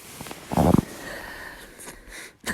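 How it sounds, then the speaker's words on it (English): A sleeping bag on the John Muir Trail gives off a short, buzzy, fart-like rasp, close and brief, amid faint rustling. "My sleeping bag sounded like it farted."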